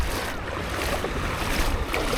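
Sea waves wash steadily at Ponta das Canas beach in Florianópolis, a continuous broad rush of water and surf close by with no pauses.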